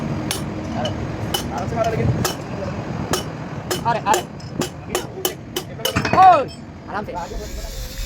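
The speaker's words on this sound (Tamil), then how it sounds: "இந்த மாதிரி சீட்டை தட்டி எடுத்துடலாம்" Sharp metallic hammer taps knock a valve seat out of a ship's auxiliary engine cylinder head, a dozen or so irregular ringing strikes, close by, with some clinking.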